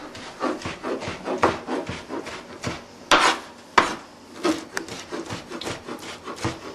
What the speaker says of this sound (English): simply just take your knife and we're just going to run it through our shrimp